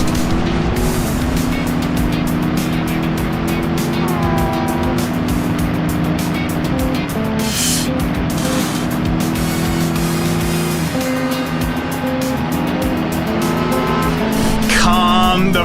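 A car engine in the video game Driver 2 drones loudly and without a break, its revs rising and falling as it shifts through gears while driving.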